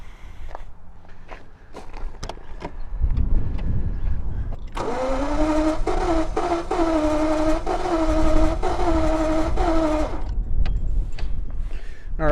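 A Jaguar XJS with Marelli ignition and a fuel or ignition fault cranks and labours for about five seconds as a steady, buzzing engine drone, framed by clunks and quieter shop handling noises before and after.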